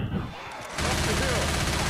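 Rapid gunfire in the zombie shooter game Left 4 Dead 2 bursts out loud and close, a sustained rattling volley after a short quieter stretch.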